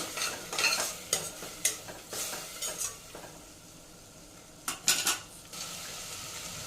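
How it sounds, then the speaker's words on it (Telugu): A spoon scrapes and clatters against a pan of curry mixture, in irregular stirring strokes with small metallic knocks and a soft sizzle beneath. The sounds are close and fairly quiet, and there is no talking. "ఇది ఒకసారి మిక్స్ చేద్దాం అండి"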